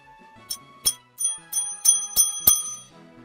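Bells roll and ring in a quick series of about seven bright, sharp metallic dings, spaced roughly every third of a second, close and clear with no talking.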